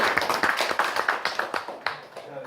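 A small audience at a Korean company partnership event claps in a quick run of sharp, distinct hand claps that thin out toward the end.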